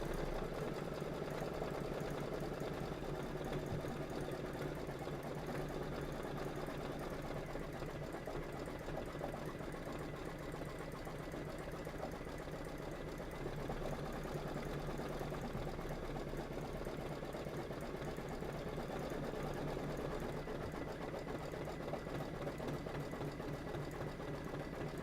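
An embroidery machine stitches out a number 6, a continuous rapid mechanical chatter with a steady rhythmic hum, even and moderately close throughout with no pauses.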